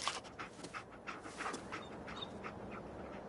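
Dogmeat the dog from Fallout 4 panting quickly and steadily in rapid breathy bursts, close but fairly quiet against soft game ambience, with no talking.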